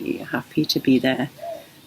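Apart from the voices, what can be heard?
No everyday noises stand out.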